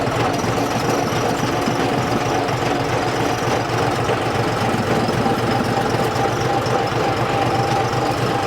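A John Deere tractor engine idles close up with a steady, rough, knocking chug that holds constant and unbroken, with no voices over it.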